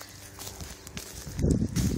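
A rescued horse walks on hard ground, a few soft hoof clops that grow louder and nearer toward the end, with faint background noise.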